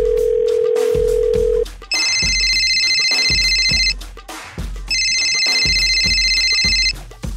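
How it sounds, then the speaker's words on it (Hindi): A telephone rings loudly in a Hindi comedy sketch, a repeating high electronic ringtone in two bursts over a pulsing beat, with a steady tone heard first. "फोन बज रहा है यार तुम्हारा"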